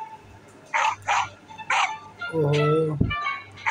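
Short, clipped dog barks come in a quick run of four or five from a puzzle video game, followed by a brief whimper-like tone and a thump, with someone talking between them.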